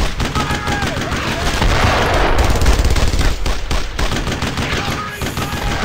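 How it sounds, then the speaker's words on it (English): MG-42 machine gun fire in the WWII shooter Brothers in Arms: loud, sustained rapid bursts of automatic fire with overlapping gunshots and battlefield noise, continuous across the whole stretch. "Yeah, I think that might be an MG-42."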